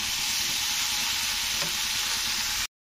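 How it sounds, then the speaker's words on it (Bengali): Chopped bottle gourd stir-fries with salt in a hot pan, a loud, close, continuous sizzle with faint stirring scrapes underneath, then an abrupt cut to silence near the end. "তো লবণটা দিয়ে আবারও আমি একে একটু ওপর নিচ করে কষে নেব।"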